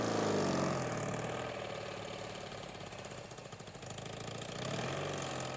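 A police training motorcycle crawls along at slow speed with a slipping clutch and fixed throttle, its engine note steady and close, swelling slightly at the start and end with no voices over it.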